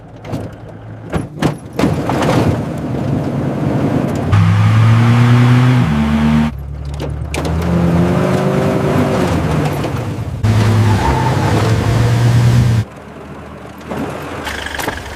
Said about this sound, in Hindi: ठीक है, गाड़ी थोड़ा तेज चलाओ।